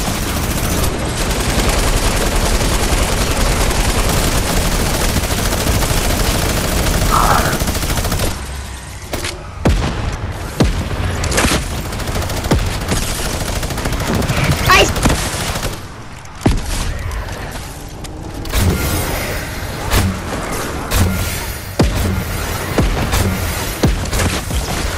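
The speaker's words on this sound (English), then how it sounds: "I'm gonna use a minigun" A minigun roars in a zombie video game, a dense, continuous rattle of gunfire that runs loud almost throughout, with a short lull midway and brief breaks between bursts.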